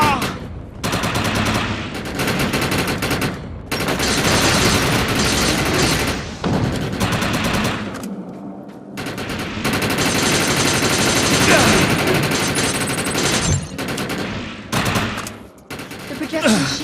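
Rapid automatic gunfire with overcharge power active in the video game Defiance comes in long, loud sustained bursts broken by short pauses, with booming impacts mixed in.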